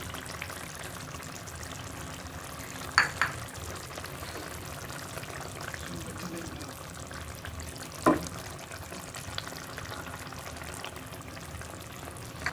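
Eggs going into fried masala in a pan for egg curry: a steady, gentle sizzle with two soft knocks as they are set down, heard close and moderately quiet, with no talking.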